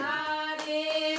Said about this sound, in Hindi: सारे मिलकर ताली बजाओ।